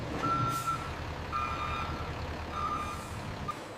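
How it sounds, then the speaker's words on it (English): Delivery trucks loaded with bottled apple juice pulling out of a juice factory, steady reversing beeps repeating over a loud diesel rumble and background machinery. "Trucks depart the facility carrying bottled apple juice for distribution."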